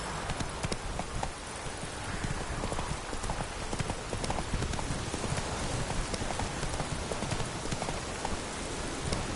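Rhythmic clip-clop of the horse Roach's hooves in a video game, steady and continuous over a dense bed of rain-like hiss.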